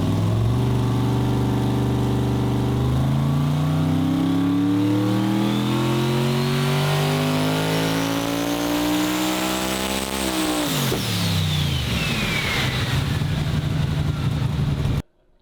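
Car on a dyno during a power run: the engine revs up in a long, loud, rising pull for about ten seconds, then drops sharply back toward idle before cutting off abruptly.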